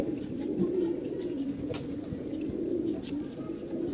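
Pigeons in a home loft, being paired for breeding, keep up a low continuous cooing close by, with a few soft sharp rustles or taps scattered through it.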